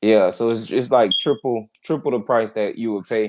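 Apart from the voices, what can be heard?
smoke detector beeping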